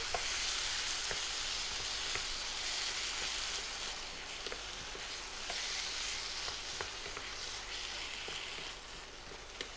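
Tomatoes sizzle and spit loudly in a hot frying pan, a dense continuous hiss with scattered crackles and stirring clicks, close up and with no talking.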